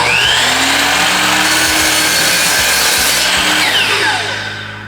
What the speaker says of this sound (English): On the miter saw, we're going to measure out 15 3/8 and put the stop block right there.